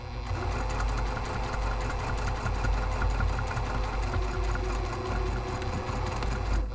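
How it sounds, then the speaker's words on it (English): A sewing machine stitches a vertical line through foam padding for a large padded camera bag, a steady rapid mechanical whirring hum with a fast needle rhythm, close and continuous with no pauses. "we're going to rotate it and stitch another vertical line through the center"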